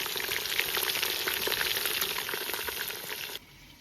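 Meat pieces for kazan kebab fry in small batches in a kazan, a dense, steady close sizzle that runs for about three seconds, then cuts to a quieter hiss.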